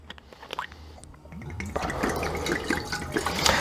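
Water poured into a stock pot holding chicken for a light chicken broth, a steady splashing fill that starts after a few faint drips and builds in loudness, close by and heard alone.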